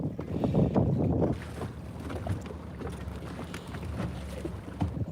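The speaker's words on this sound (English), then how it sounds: "we got kind of a little bit of wind out here" Wind gusts buffet the microphone on a lake during bass fishing from a boat, a rumbling low roar strongest at the start, then easing into a steady breezy rush with light water lapping.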